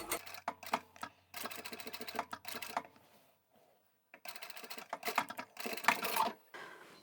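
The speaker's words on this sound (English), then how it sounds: "we'll just sew straight across all of those" A sewing machine stitches straight across a stack of fabric bookmarks in short quick rattling bursts, with brief quiet gaps between runs.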